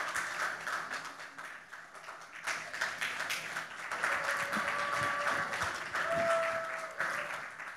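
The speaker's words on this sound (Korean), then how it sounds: "꽃다발을 받을 때 다시 한번 큰 박수로 환영해 주십니다" During a Christmas service at a Korean church in Chile, the congregation applauds in a steady, moderately distant wash of many hands that continues throughout, with faint voices underneath.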